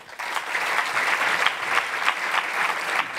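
An audience applauds two guest speakers at a talk on ecology and traditional cultures, steady clapping that starts abruptly and holds at an even level throughout, with no talk over it.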